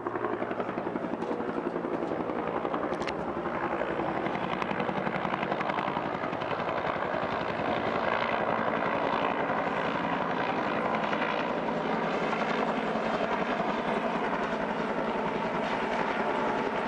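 Helicopters fly low over houses near an airport, a loud, steady, thudding rotor drone that holds without pause for the whole stretch.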